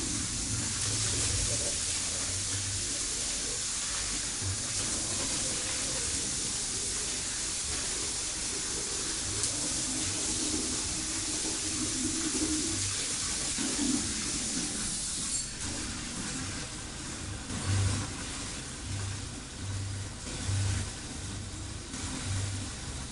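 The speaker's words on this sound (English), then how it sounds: "because we're going to fill them up with water," Tap water runs steadily into flower buckets, a continuous bright hissing splash that holds at an even level throughout with a faint low rumble beneath and no talking.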